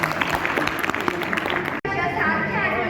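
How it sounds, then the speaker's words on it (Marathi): Applause from an audience at a college farewell event in Loni, a dense wash of clapping that fills the clip, briefly cut off near the end before resuming with mixed crowd noise. "टाळ्या"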